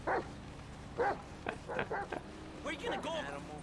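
Dogs bark and yip in the video game GTA 5, several short sharp barks spaced across a few seconds with a whimpering tail, loud and close, alongside talk.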